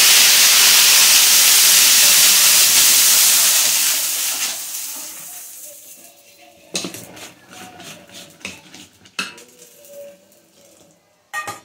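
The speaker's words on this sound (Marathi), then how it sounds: "आपण पाणी टाकून परत पुसून घेऊया." Water splashed onto a hot tawa griddle hisses loudly and steadily for about four seconds, then dies away into scattered clinks and scraping of utensils.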